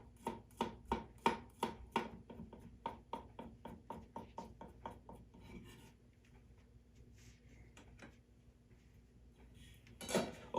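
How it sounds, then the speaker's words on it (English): Knife mincing garlic on a cutting board, a quick run of crisp, evenly spaced chops that slows and fades halfway through, followed by quiet kitchen handling and a final clatter. "get started on mincing up my garlic"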